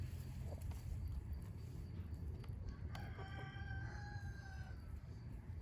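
A Silkie rooster crows once, a drawn-out call rising from a brief start near the middle, moderately close, over steady low outdoor rumble.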